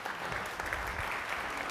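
Audience applause at a Code Commerce 2019 presentation as a Soft Robotics engineer is called to the stage, a brief, steady burst of many hands clapping, fairly quiet and without speech.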